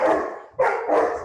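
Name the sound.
dog barking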